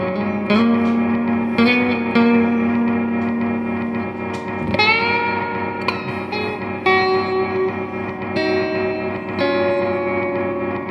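A guitar solo played with a reverb effect over a sustained background tone from a looper and sustainer pedal setup, with plucked notes ringing out and washing into a long, echoing tail.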